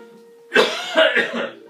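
One short, rough cough, close and fairly loud, breaking into a few quick throaty bursts after a moment of near silence.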